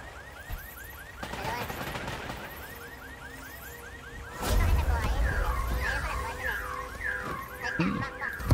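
A warbling alarm siren in the video game Bloodhunt cycles rapidly up and down, first faint, then louder after a burst of gunfire and action noise, continuing over game effects.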